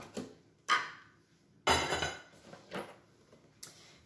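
Small ramekins clinking and clattering on a hard surface as they are filled with lemon cream, several distinct sharp knocks and scrapes spaced a second or so apart, close by in a quiet kitchen.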